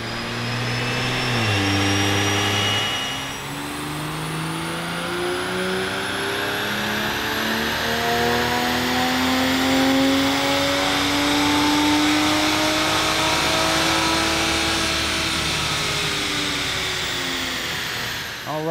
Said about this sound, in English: the guys strap her down for some pre-work dyno pulls to get our starting point for both horsepower and torque